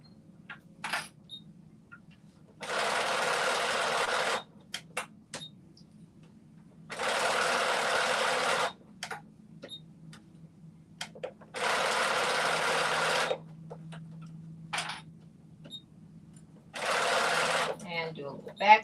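A sewing machine stitches in four distinct bursts of steady whirring, separated by quiet pauses filled with small clicks and handling noises.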